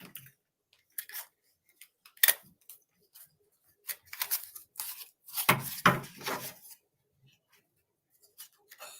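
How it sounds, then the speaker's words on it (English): Tarot cards being shuffled by hand, giving soft irregular riffles, slaps and papery rustles that come in scattered bursts close to the microphone, with quiet gaps between them and no talking. "I'm shuffling my cards"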